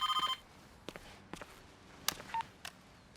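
An electronic telephone ringtone gives a quick run of pulsed, high tones right at the start, then gives way to quiet room sounds and a few soft clicks and knocks.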